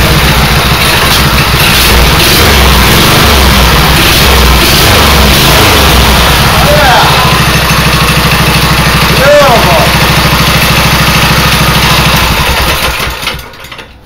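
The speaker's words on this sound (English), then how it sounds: "we're going to give this a fire up and see if she works" A homemade stunt bike engine runs loud and close, a continuous throbbing idle with rough, steady firing that holds for most of the stretch and then dies away near the end.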